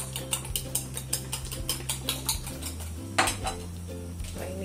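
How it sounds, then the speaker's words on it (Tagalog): Eggs beaten in a pan for a vegetable stir fry, a steady rhythm of quick metallic taps and scrapes of utensil against the pan, close and clear over a low background hum, with no talking. "Bati-bati ng itlog."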